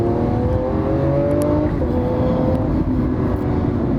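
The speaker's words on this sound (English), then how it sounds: "this is a V12 Lamborghini" A V12 Lamborghini engine drones loud and steady, its pitch slowly rising and falling as it revs under way, heard close up and alone with no voices.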